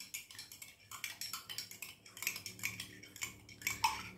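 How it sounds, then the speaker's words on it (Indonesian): Spoon stirring drops of food coloring into a liquid solution in a glass container during a chemistry lab, giving a quick run of light, bright clinks and scrapes that repeat in short bursts, close up with no talking. "Lalu kita akan aduk agar warnanya tercampur."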